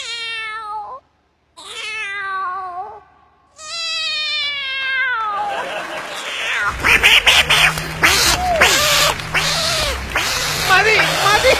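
A voice imitates two cats fighting, starting with drawn-out meows and rising into loud, rapid yowls and caterwauling screeches, close and unbroken.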